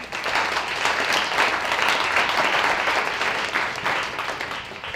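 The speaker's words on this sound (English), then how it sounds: "I would love if we could also just express a round of applause" A church audience at an evening mission event claps together in a steady, dense wash of applause that holds for several seconds, then begins to fade.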